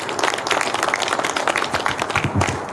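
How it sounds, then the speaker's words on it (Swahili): An audience applauds a senator at a community meet-and-greet in Seattle, a dense, steady clapping that stays loud and close for about three seconds with no voices over it. "Ningependa tumpigie senator wetu makofi ya kilo."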